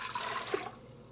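Distilled white vinegar poured for pickle brine, a short close splashing pour that trails off after half a second, with no voices.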